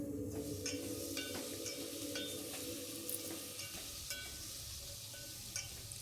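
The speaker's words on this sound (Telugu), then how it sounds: "మునక్కాయ, ఆలుగడ్డ, టమాటా, క్యారెట్, బెండకాయ ఇవన్నీ వేసాక కొంచెంసేపు ఫ్రై అవ్వాలండి" Drumstick, potato, tomato, carrot and okra sizzle steadily in a hot pan, with occasional scrapes and clinks of a stirring spoon against the metal.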